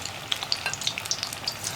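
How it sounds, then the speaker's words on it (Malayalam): Cauliflower coated in rice-flour batter deep-frying in hot oil, a close, lively crackle with sharp scattered pops over a constant bubbling hiss. "അപ്പോൾ സാധാരണ നമ്മുടെ ഫ്രൈ പോലെ തന്നെ ഫ്രൈ ചെയ്തെടുക്കാം"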